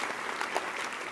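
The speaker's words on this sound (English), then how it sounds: "we can give another round of applause" Audience applause at a judicial investiture ceremony, a brief steady wash of clapping from a crowd.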